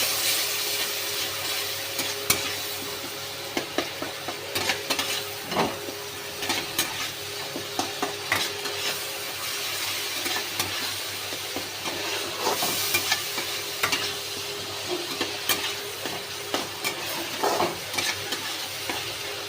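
Spice paste sautés in a pan with a little water, a continuous hissing sizzle with frequent spatula scrapes and clicks scattered throughout, close and steady, and no talking.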